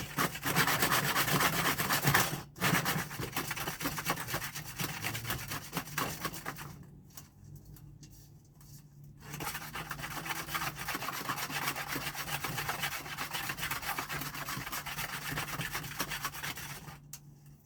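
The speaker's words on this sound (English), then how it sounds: "this is the last batch for me to sift out the castings from the cocoons" Worm castings from a vermiculture bin, fresh off drying racks, sifted by hand through a screen to separate them from cocoons; steady close gritty rubbing and rasping continues throughout, dropping briefly quieter midway before resuming.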